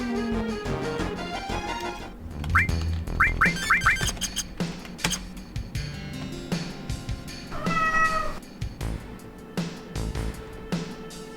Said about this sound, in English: Every stream I go up there and I just hear meow